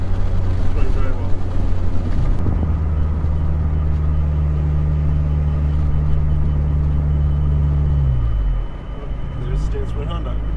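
A turbocharged Toyota MR2 AW11 engine runs steadily with a loud, low drone from inside the moving car, then its tone drops near the end as the revs fall, under faint cabin noise.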